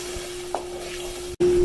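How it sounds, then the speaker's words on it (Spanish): Tamale sauce added to very hot oil in a pot gives a steady, close sizzling and frying hiss with a brief stir, then a short cut and a louder, continuous sizzle. "con el aceite muy caliente agregamos nuestra salsa"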